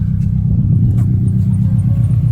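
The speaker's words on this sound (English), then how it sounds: "Oh, I've got to turn the car on." A Subaru Impreza WRX engine idles close by with a loud, steady low rumble and even throb, unbroken for the whole stretch, with no voices over it.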